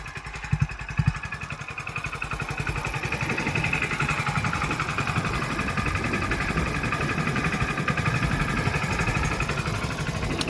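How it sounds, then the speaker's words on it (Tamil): A Hero HF Deluxe Pro motorcycle engine idles steadily and close by, its low exhaust note throbbing evenly throughout with a faint clatter, no voices. "எக்ஸாஸ்ட் நோட்டு கூட கேட்டு பாருங்கள்"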